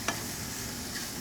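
Bell pepper and celery sweat in a pan with a soft, steady sizzle and faint stirring, quiet and continuous, with no talking.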